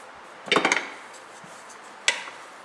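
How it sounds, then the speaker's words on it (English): A spoon clinks and scrapes against a pot of chicken and noodles, a short cluster of knocks followed by a single sharp tap, close and otherwise quiet. "We're going to go ahead and check our noodles and give it a stir"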